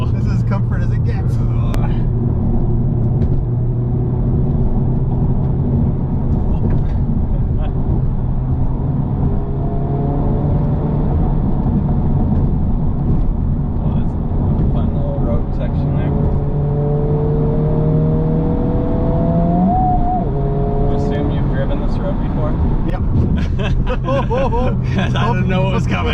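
A 2024 Honda Civic Type R driving over a bumpy road, its engine droning steadily with rising and falling pitch as it accelerates, heard from inside the cabin under continuous talk from the people on board.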